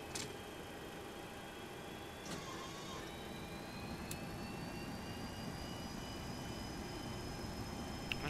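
A steady whine and low rumble from an aircraft's APU and jet engine at an airport ramp, with faint tonal drifts rising over about eight seconds, quiet and continuous.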